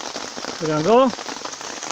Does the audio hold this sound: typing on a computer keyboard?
no